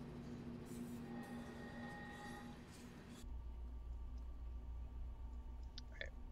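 A locomotive in Train Simulator 2020 rolls along with a low, steady rumble and faint clicking, and partway through a deeper engine drone swells in and holds. The sound is quiet throughout.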